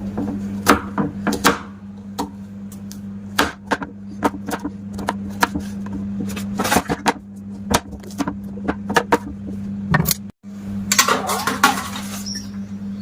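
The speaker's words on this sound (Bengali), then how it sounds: "এবার আমগুলো পিস পিস করে কেটে নেবো" Raw green mangoes chopped into pieces with a knife on a board, giving a long run of sharp, close knocks and taps in uneven rhythm over a steady low hum, without talk.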